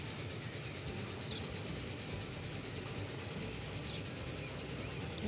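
A train in the video game Transport Fever 2 rolls past with a steady, continuous rail rumble and faint rhythmic clatter, heard alone.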